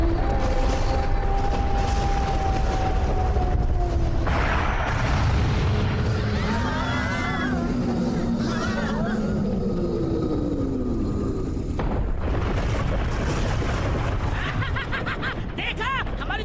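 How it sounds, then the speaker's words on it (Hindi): A cartoon cannon in a Doraemon movie fires loud, booming blasts amid swooping sound effects and music, with animated voices talking over the mix. "देखा हमारी तेज आवाज वाली तोप की ताकत को।"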